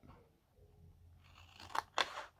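Large scissors cut through a rectangle of curtain fabric, giving a couple of crisp close snips after soft rustling of the cloth, quiet and without talk.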